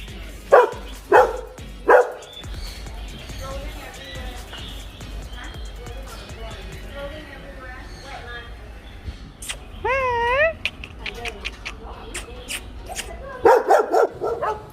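Dogs at Paw Nation farm in Gallop D'Kranji Farm Resort, Singapore, bark in several loud, close bursts at the start and again near the end, with a busy outdoor background of voices and a brief warbling animal call between.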